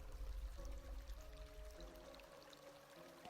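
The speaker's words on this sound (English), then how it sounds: "There's the water." Water flowing again through a restored fountain in the horror game Habromania, a steady pouring, trickling stream heard alone at low level.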